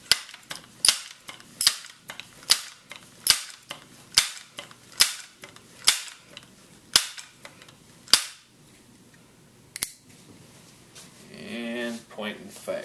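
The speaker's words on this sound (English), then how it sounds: "And then pump it as much as you want to." Pumping a Crosman 1377 air pistol: about ten sharp, evenly spaced clacks and hisses of the pump lever at close range, each stroke loud and distinct, followed by a pause and then a voice speaking.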